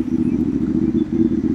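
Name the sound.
motorcycles passing on the road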